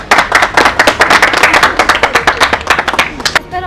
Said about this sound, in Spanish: Den un aplauso, por favor.